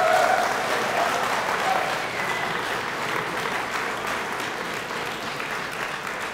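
An audience claps steadily to welcome a closing keynote speaker at a craft brewers conference, a dense, even wash of applause that holds for several seconds and slowly eases.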